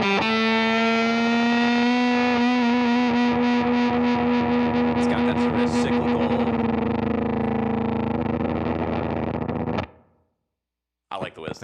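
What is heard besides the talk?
electric guitar through Walrus Audio Eons Five State Fuzz pedal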